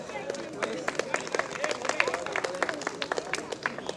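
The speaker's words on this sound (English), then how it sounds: "I request you all to give a round of applause" Steady applause from an audience, many hands clapping at once with a dense, continuous patter that holds throughout.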